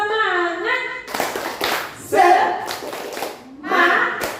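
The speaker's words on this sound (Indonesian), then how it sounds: "Oke, tepuk semangat dulu ya Bapak Ibu ya." Participants at an Indonesian teacher training session perform a 'tepuk semangat' cheer, loud bursts of group clapping in short rhythmic patterns that alternate with a leader's voice and the group chanting along.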